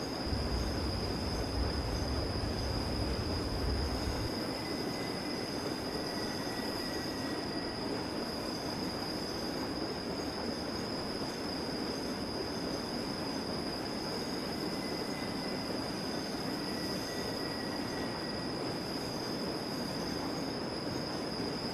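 Passenger train on the Albula Line in Train Simulator 2016 rolls steadily with a loud continuous rumble, wheel noise and faint high squeals throughout, a deeper low roar in the first few seconds fading out.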